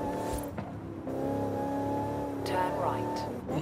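A Range Rover Velar's engine heard from the cabin in Forza Horizon 5, a steady harmonic drone that rises in revs partway through, with someone talking over it.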